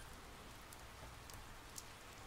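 Rain in the Persona 4 Golden video game, a soft, even patter of falling drops that runs steadily throughout, with a few faint isolated drips standing out.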